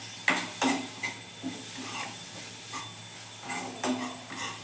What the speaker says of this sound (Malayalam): കുറച്ച് തേങ്ങ കൂടി ഇട്ട് കൊടുത്ത് നമുക്ക് നന്നായിട്ട് ഇളക്കി കൊടുക്കാം